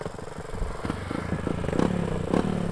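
A Minitrail 50 cc motorcycle pulls away, its small engine putting out a nearby buzzing drone that rises in pitch with a few throttle surges, along with some light clatter.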